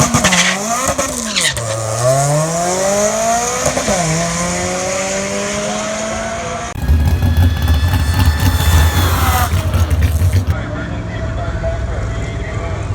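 A supercharged Honda D16 car launches at a drag strip, its engine revving hard with a rising, sweeping pitch that drops at gear shifts before a loud, rough, broadband roar takes over, then fades to a lower drone.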